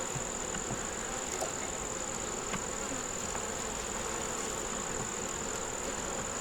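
Honey bees buzz steadily around an open nuc box hive while supers are being added, a dense continuous hum with a faint high whine above it, close and even throughout with no voices.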